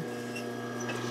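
A sewing machine stitches across a striped fabric seam while a roller towel is made, giving a steady mechanical whir with a constant motor hum and fine rapid ticking throughout the short stretch.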